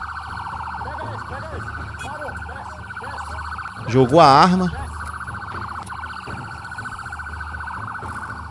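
A continuous wailing police siren drones throughout during a motorcycle chase, with a brief louder burst partway through and a voice speaking briefly over it.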